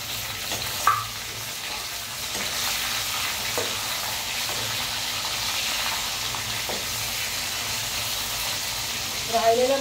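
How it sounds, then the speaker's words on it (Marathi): Masala-stuffed eggplants fry in an oiled pan with a continuous close sizzle and hiss, broken by a few soft clicks and a louder spatter at the end. "आता आपण वांगी सोडूया त्याच्यामध्ये।"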